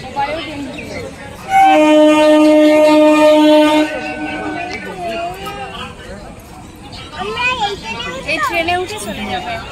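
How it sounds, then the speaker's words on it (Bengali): A train pulling into a station on the way to Canning sounds a loud, sustained horn blast early on, followed by a busy platform with adult and children's voices chattering nearby. "এখন ট্রেন ঢুকে যাচ্ছে"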